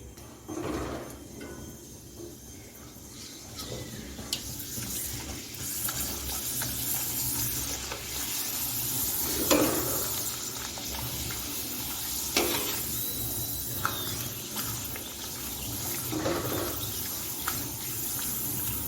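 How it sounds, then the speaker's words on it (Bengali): Potato papad fries in hot white oil in a wok, giving a steady, dense sizzle with occasional louder crackles and spatters throughout, close by and without any voices. "আমি এই জন্য কড়াতে সাদা তেল দিয়ে গরম করে নিয়েছি এখন ভেজে দেখাচ্ছি"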